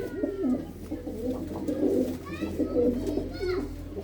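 Pigeons coo steadily and fairly close with soft repeated throaty calls, while a few higher bird chirps break in over low background hum.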